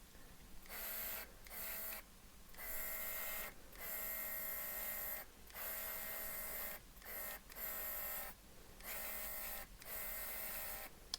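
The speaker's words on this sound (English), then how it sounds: "So far it's a good little airbrush." A small new airbrush spraying paint onto an Italeri BR41 locomotive model, making a hissing, buzzing compressor-driven whir that runs in bursts of several seconds each, separated by brief pauses, faint and steady.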